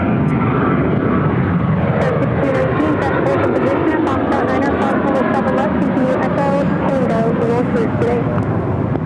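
An American Airlines 737-800 airliner at Phoenix airport gives a steady, loud jet-engine roar that fills the whole stretch, with voices talking over it throughout.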